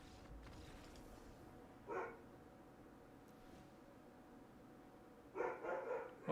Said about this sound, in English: I'm gonna see what the dog's barking about.